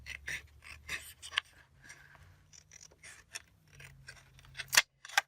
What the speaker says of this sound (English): I really like my bigger scissors, but I know I'm going to have a problem coming in. I'm going to cut to there.